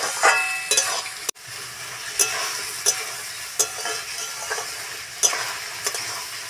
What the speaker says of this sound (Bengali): চিকেনটা অনেকক্ষণ কষিয়ে নিতে হবে।